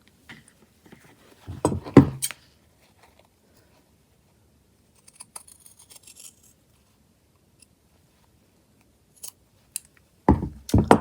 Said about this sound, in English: And then I need to snip across here.